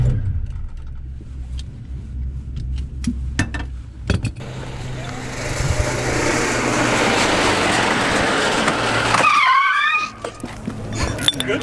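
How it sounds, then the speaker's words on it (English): A twin-turbo Malibu car skids with its wheel knocked off after snapping its studs. A long, loud scraping roar builds and holds for several seconds before cutting off abruptly, with clattering thuds before and after. "Good skid."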